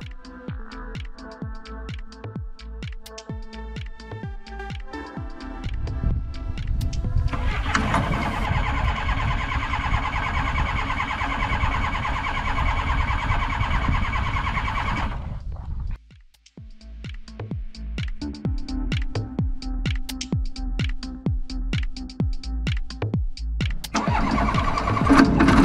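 Aircraft piston engine started with a LiFePO4 battery: a rhythmic starter cranking, then the engine catches and runs loud, cuts briefly, and cranks and runs again, alone without talk.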